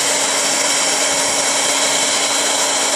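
A heater warms the screen of a Samsung Note 2 phone during a repair, giving a steady, loud, even blowing hiss with a faint constant hum and no breaks for the full three seconds.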